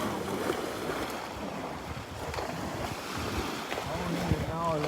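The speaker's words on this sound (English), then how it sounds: "Little waves washing in." Small waves washing in steadily on a beach in North Naples, Florida, a continuous broad wash of surf with wind noise over the microphone and a faint voice near the end.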